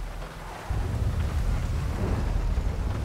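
A cartoon-style thunderstorm roars with a dense, steady wash of rain and deep rumbling thunder that swells suddenly and stays loud throughout.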